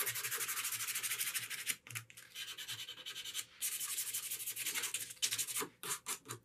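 A guitar headstock is sanded by hand with 320 grit sandpaper: quiet, close, rhythmic rubbing strokes with brief pauses between them.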